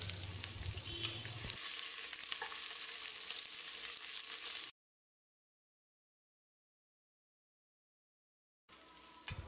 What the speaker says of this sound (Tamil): மீடியம் சைஸில் நறுக்கின ஒரு பெரிய வெங்காயத்தை சேர்த்து வதக்கிடலாம்.